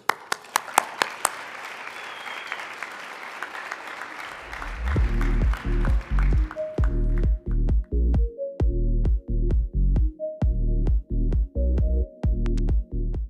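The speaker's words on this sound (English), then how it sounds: "let's give a round of applause to every single honoree here" A crowd applauds honorees at a business awards event for young achievers, a full, bright burst of clapping that fades over about four seconds before music begins and carries on to the end.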